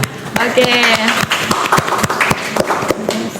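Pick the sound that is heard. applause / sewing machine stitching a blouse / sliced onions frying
applause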